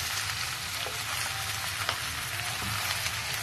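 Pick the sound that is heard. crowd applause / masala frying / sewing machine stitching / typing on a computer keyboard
masala frying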